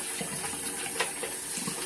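Hot water runs from a tap in a steady, close, continuous rush with faint splashing, heard alone without talk.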